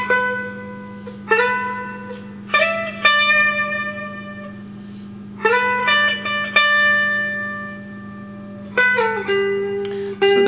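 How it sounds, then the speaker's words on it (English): An electric guitar plays phrases from the second solo of a song without a slide, with clean sustained bent notes in short repeated groups over a steady background hum and no talking. "the second solo uses a slide, but we're going to attempt to learn it without a slide"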